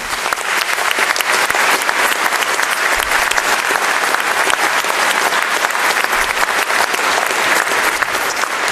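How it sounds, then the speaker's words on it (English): At a graduation-style ceremony, the audience gives the musicians a loud, continuous round of applause, thick and unbroken from start to finish. "Please join me in giving them a warm round of applause."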